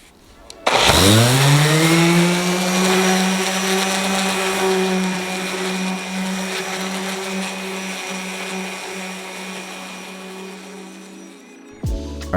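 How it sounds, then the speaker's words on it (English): Power sander with a 120 grit pad on drywall joint compound at an inside corner: the motor spins up to a loud, steady whine that holds for about eleven seconds, then cuts off abruptly. "we sanded everything with a 120 grit sanding pad on the sander"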